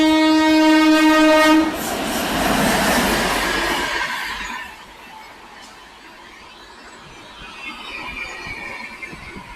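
A MEMU train horn blares loudly with steady tones, then gives way to the rumbling roar of the train passing close by on the Erode to Palakkad line, fading into quieter rail noise.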